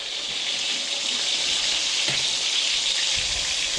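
Lamb chops fry in a pan on a home stove, giving a steady, loud, hissing sizzle that runs unbroken throughout with no voices.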